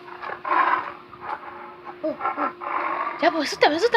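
A voice imitates a tiger's roar with a series of throaty, wavering growls and short roaring bursts, near and fairly loud, mixed with other vocal sounds.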